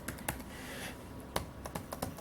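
Keys clatter on a Lenovo ThinkPad T430 laptop keyboard, a scattering of crisp, irregular taps heard up close over faint background hiss.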